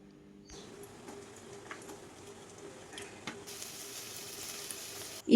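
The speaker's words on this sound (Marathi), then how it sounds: "तर आता मी हे वाटण छान असं भाजून घेणार आहे, म्हणजे ह्यातलं ना नारळ, शेंगदाणे, हिरवी मिरची, कांदा हे मी सगळं भाजून घेणार आहे" Coconut, peanuts, green chilli and onion dry-roast in a pan, giving a soft, steady crackle and sizzle that grows slightly louder partway through, close by with no talking.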